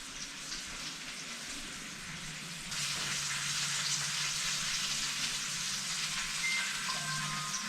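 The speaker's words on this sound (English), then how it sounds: "We're just searing it right now, and then we're going to let it rest." A tomahawk steak searing in a hot pan gives a steady, fairly faint sizzle that swells louder partway through and then holds evenly.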